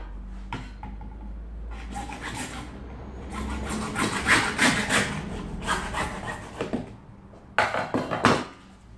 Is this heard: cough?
no